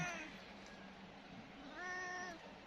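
A cat meows loudly outdoors in the cold at a mountain campground on Doi Inthanon, with two drawn-out, tonal cries, one at the start and one near the end, over a faint background hiss.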